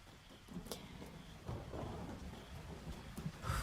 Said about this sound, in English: It wasn't supposed to rain this weekend